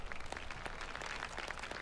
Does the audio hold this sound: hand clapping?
yes